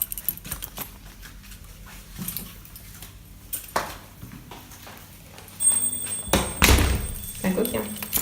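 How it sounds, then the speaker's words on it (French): A house door is opened with a few dull thunks and a louder clattering bang near the end, while people talk nearby. "Tu ouvres la porte?"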